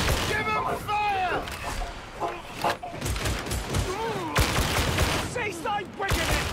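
Rapid gunfire bursts crackle repeatedly through a Warhammer 40k: Darktide battle, loud and close, mixed with shouted voices and combat noise throughout.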